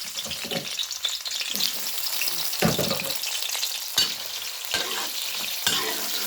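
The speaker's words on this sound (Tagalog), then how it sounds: "magigisa tayo ng sibuyas" Sliced onions sauté in hot oil in a pan as a dense, close sizzle, broken by repeated bursts of stirring and scraping from a utensil, with nobody talking.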